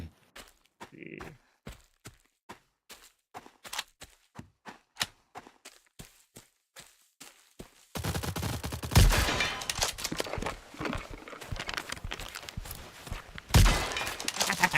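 Video-game gunfire, with a run of sharp, evenly spaced shots standing alone against near silence, followed by a dense, louder stretch of mixed firing and impacts as a player talks.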